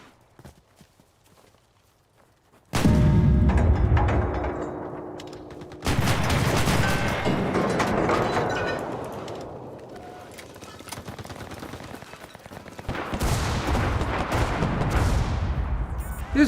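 Anti-aircraft guns fire during an Enlisted battle, loud bursts of heavy gunfire arriving in waves that start suddenly and then sustain as dense, rumbling volleys with sharp cracks, no talking.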